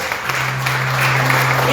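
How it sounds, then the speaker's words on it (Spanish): Congregation applauding together in a church service, a steady wash of clapping with a low sustained hum underneath, continuous and fairly loud throughout. "Denle un fuerte aplauso a Dios"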